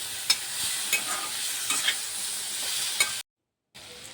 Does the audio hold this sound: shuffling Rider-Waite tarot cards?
no